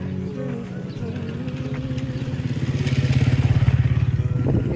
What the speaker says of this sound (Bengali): ক্ষেতের মাঝখানেও মোটরসাইকেল চলে মিশরে